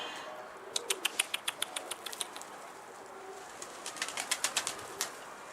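Pigeon wings flap in quick bursts of sharp claps near a pigeon coop as a stray bird moves about, two clustered runs of beats separated by a quieter gap.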